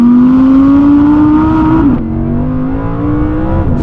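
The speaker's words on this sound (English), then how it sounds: "here's a quick montage of some Audi R8 V10 rear-wheel drive noises" An Audi R8 V10 rear-wheel-drive engine revs hard, its loud rising howl climbing for about two seconds, dipping briefly as if shifting, then climbing again, close and continuous.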